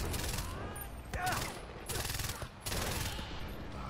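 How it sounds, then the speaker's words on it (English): Gunfire in Far Cry 4 comes in several quick bursts of rapid shots, fairly faint and spaced across a few seconds. "a couple of shots there"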